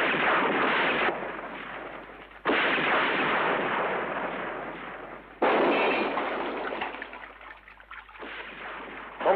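Gunfire from a spaghetti western film: three heavy booming reports spaced a few seconds apart, each trailing off in a long rumbling decay, loud with no talking.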